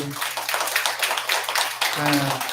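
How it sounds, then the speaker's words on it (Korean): A temple congregation at a Buddhist dharma service claps together, a brief burst of hand claps over steady background hum, with a voice speaking over the end. "박수 한번 치세요."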